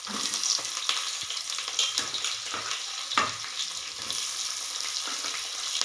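Chopped onions frying in a pan for a palak rice dish, giving a steady crackling sizzle with occasional spatula scrapes and taps, close and continuous, without speech.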